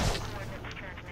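A brief burst of heavy gunfire and artillery-like booms in the video game Prototype 2 sounds close and rumbling under voices.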